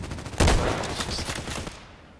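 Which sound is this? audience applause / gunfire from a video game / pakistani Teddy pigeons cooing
gunfire from a video game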